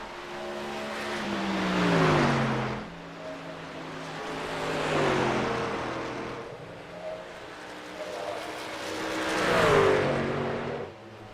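Racing trucks in a BNR Truck Series race roar past one after another during a lap, each engine rising in pitch as it nears and fading away, three passes in all.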